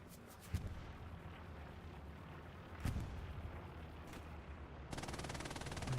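Machine gun fire during a competitive video game scrim: two loud single blasts, then a rapid, evenly spaced automatic burst near the end, all over a steady background rumble.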